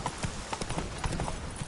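Horse hooves clip-clop at a steady, quick trotting pace in the Witcher 3 video game, with evenly spaced hoof strikes over a constant background hiss and no voices.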